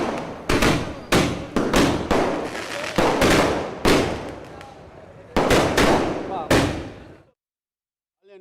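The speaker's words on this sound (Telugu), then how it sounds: "టపాసులు పేల్చి మద్దతు తెలిపారు." Firecrackers set off by Jana Sena and party supporters at a political celebration in Ongole, Andhra Pradesh, burst in a rapid, irregular string of sharp, loud cracks with brief echoing tails, then fall silent near the end.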